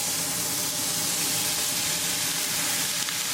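Paneer and frozen peas stirred in a hot pan over medium gas for matar paneer bhurji, giving a dense, even sizzle and hiss that runs steadily throughout without pause or talk.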